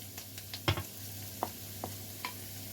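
Onions and carrot sauté in a pan, a soft steady sizzle under a low hum, broken by a few scattered stirring clinks and scrapes of a utensil; no voices.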